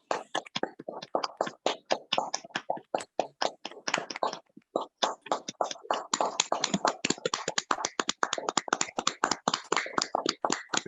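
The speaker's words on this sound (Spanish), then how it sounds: "les pido a todos, por favor, que levantemos los micros para despedir al embajador Meyer con un cálido y caluroso aplauso" A room full of people applauds warmly for a departing ambassador at a farewell gathering, dense continuous clapping that runs loud and steady through the whole stretch with only a brief dip midway.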